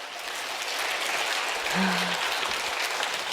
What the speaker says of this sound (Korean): 우리 세 분을 위해서 다시 한번 뜨거운 박수를 좀 해주실까요?